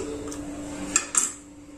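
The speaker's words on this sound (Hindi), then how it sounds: "कढ़ाई रख दी है, अब हम इसमें डाल देते हैं तेल।" A metal kadhai wok set down on a kitchen stove gives a couple of quick, close clanks with a faint metallic ring over a low background hum.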